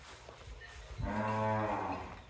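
A Gir heifer lets out a single long, low moo in the second half, loud and fairly close, with no talking.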